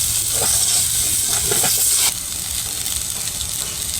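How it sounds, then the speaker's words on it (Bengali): Chow mein stirred in a frying pan, a loud steady sizzle with soft scraping tosses, the hiss dropping somewhat halfway through. "আবারও চাউমিনটাকে এরকমভাবে একটুখানি নেড়ে নেব।"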